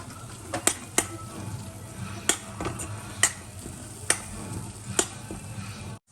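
Spoon scraping and knocking through a dry tomato curry with red masala in a pan, with sharp taps roughly every second over a soft, steady sizzle, close and without talk.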